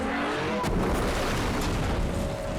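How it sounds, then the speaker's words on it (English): Film explosions during a freeway car chase: a heavy booming rumble with a sharp burst near the start, then sustained roaring noise like a blast and its aftermath, loud and dense. "We have big explosions."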